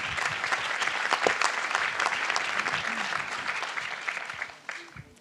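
An audience at an astronomy lecture claps in sustained applause for about five seconds, dense and lively, then fades out near the end.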